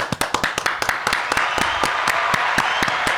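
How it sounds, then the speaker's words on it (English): A few people clap for a guest on a podcast set, with sharp, close, separate claps that start rapid and loud and then thin out into slower, scattered claps. "we want to welcome back our very special guest. Round of applause"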